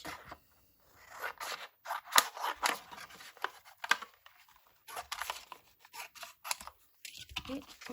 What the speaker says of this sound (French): là je vais prendre ma grosse paire de ciseaux